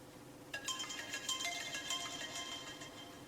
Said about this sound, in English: We're going to play a ringtone here.